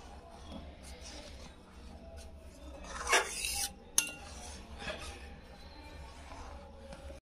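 Chhena stirred in a pan over a low gas flame makes quiet scraping, with a brief cluster of metallic clinks and a sharp tap from the spoon against the pan partway through.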